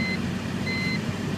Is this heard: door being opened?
no